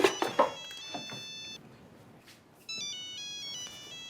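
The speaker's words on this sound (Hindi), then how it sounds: "फोन उठाओ।" A mobile phone ringtone plays in a home, a melodic electronic tune heard in two bursts separated by a pause, fairly faint, with a few short voices at the start.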